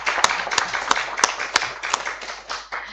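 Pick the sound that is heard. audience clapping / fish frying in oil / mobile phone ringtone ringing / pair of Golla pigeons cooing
audience clapping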